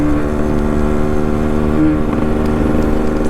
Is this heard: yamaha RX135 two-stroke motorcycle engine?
yes